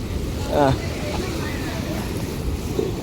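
Water washes over the temple steps where the Gomti river meets the Arabian Sea at Dwarka, a steady close broadband rush with wind buffeting the microphone and a brief voice early on.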